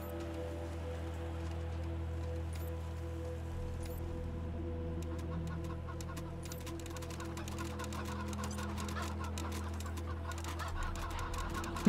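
Chickens cluck steadily in the Wasteland 3 video game, layered over a constant low ambient drone and a patter like rain, with no speech.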